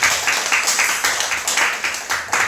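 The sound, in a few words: church congregation applauding in welcome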